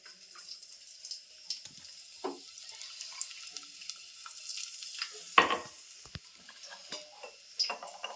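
Crushed native garlic dropping into hot oil for amti, giving a soft sizzle with faint stirring and clinks, one sharper splash of frying near the middle, quiet and close.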